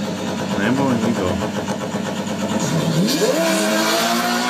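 A Lamborghini and a Mitsubishi Evo rev and accelerate in a street race, engine tones rising and sweeping upward under continuous chatter from onlookers.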